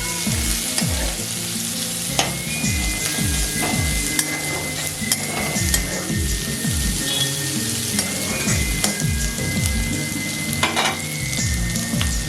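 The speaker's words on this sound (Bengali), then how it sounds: "পেঁয়াজটা একটু ভেজে নিই" Onions fry in a pan for a Bengali fish curry, sizzling steadily while a spatula stirs and scrapes against the metal in repeated strokes, with no one speaking.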